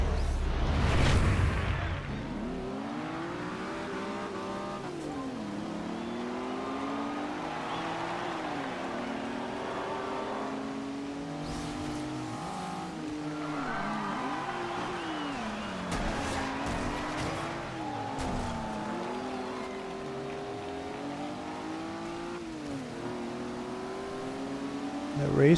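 A Maserati race car in Forza Horizon 2 revs and shifts through its gears in a long continuous run. The engine pitch climbs and drops repeatedly, loud and close throughout.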